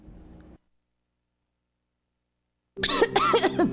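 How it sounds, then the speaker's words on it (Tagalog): Coughing in a cough medicine advertisement: a short muffled burst, then silence, then a harsh, loud cough with throaty rasping close to the microphone. "Ubo, plemang nakabara, hirap sa paghinga."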